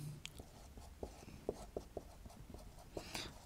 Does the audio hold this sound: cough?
no